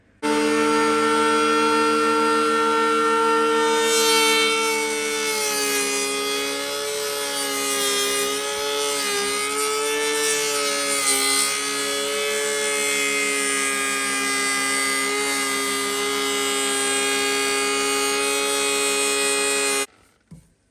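A Parkside cordless planer shaves a wood board, a loud continuous high whine with a slight wavering as the blade bites, running steadily for about twenty seconds before cutting off abruptly.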